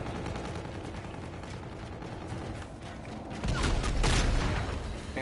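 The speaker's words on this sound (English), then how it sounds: "Enemy bombardment." Rapid gunfire and explosions in the Infinite Warfare multiplayer beta grow into a heavier barrage of booms during an enemy bombardment, dense and continuous.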